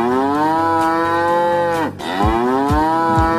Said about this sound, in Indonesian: Sapi, sapi, di mana kamu sapi?